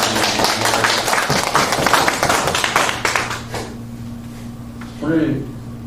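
Congregation clapping during a Sunday church service, dense rapid applause for several seconds that thins out and fades, with a brief voice near the end.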